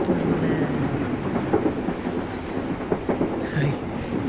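A running passenger train rumbles steadily with a rhythmic clatter of wheels over the rails, heard from inside a carriage as continuous moderate background with a brief higher squeal near the end.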